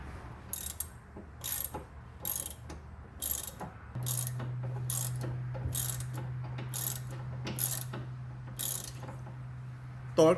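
Hand ratchet clicking in repeated short bursts, about a dozen strokes, while tightening the stabilizer link on a 2015 Mitsubishi Lancer being fitted with custom coilovers; close and clear over a steady low hum, no talking.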